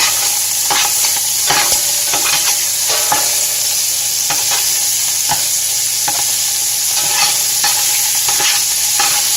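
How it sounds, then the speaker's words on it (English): Beef for boeuf bourguignon sears loudly and continuously in a hot pan, with a dense close sizzle and scattered sharp scrapes as it is stirred, and nobody talking. "You get a sear on it, you give it a stir"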